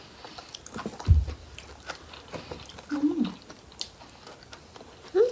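Large tiger prawns pickled in Japanese soy sauce being bitten and chewed up close, with a few crisp crunching bites spaced apart and quiet gaps between them. No one speaks.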